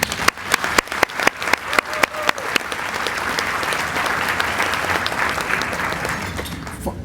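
An audience applauds recognized guests at a 2016 Boys and Girls Clubs Youth of the Year speech event. The ovation opens with a few loud, separate claps, then swells into steady, dense clapping that carries on without voices.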